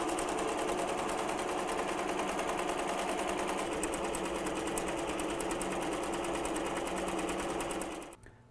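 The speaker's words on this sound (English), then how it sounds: "I'm going to go ahead and hit start and it'll start doing the border around the applique" A computerized embroidery machine stitches a satin border around a denim appliqué on a cloth shirt, its needle hammering in a fast, steady rhythm up close, running alone for about eight seconds before stopping abruptly.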